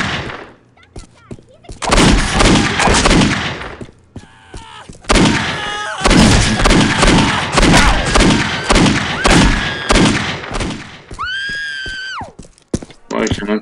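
Gunfire in the video game Postal 2, a run of loud, rapid game shots in bursts across most of the stretch, mixed with someone talking over the action.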